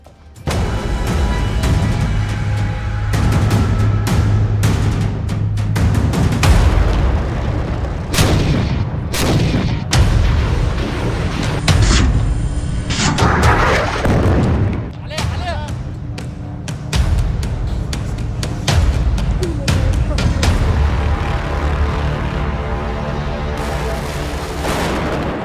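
Explosions and artillery fire from Israeli strikes in war footage, with loud repeated booms and blasts running throughout under dense, continuous noise.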